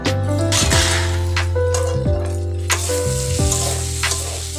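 Spices, including dry chili powder, fry in a pan for chicken pasta, giving a steady, close sizzle with occasional stirring scrapes and clinks.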